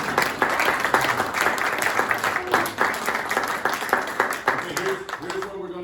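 Audience applause at a 79th State Assembly District forum, dense sustained clapping from a crowd in a hall, loud and continuous for several seconds with a few louder individual claps.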